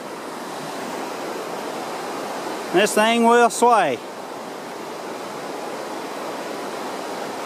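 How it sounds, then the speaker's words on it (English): Steady broadband rush of the Toxaway River flowing beneath a swaying footbridge on the Foothills Trail, heard continuously from above, with one person speaking briefly partway through. "going down into the Jocassee River"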